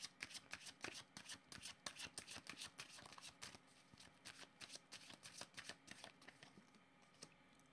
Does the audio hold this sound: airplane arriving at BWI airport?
no